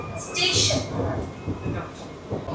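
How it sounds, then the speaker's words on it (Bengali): Sealdah-Krishnanagar AC local train pulling into Kanchrapara station, a continuous rolling rumble with hissing bursts and faint wheel clatter heard from on board, with voices murmuring over it. "আর ট্রেন আমাদের ঢুকছে আমার স্টেশন কাছাপাড়া।"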